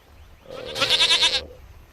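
A single goat bleats in a video game, a loud, close, wavering cry that lasts about a second against a quiet background.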